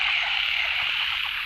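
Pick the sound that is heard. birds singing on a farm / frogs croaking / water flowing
frogs croaking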